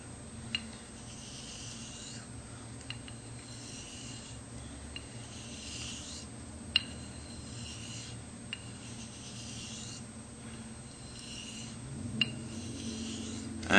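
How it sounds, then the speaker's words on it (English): Straight razor slid spine-down, with almost no pressure, along a sharpening hone: a steady, soft rasping in repeated up-and-down strokes, with a few faint clicks as the blade turns. "Just lay the spine down and gently rotate the blade until it touches. Slide it up and down."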